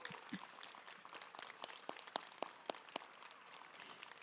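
Clapping from a crowd of guardians and family at a school graduation ceremony, faint and distant, a loose scatter of claps with a few sharper ones standing out.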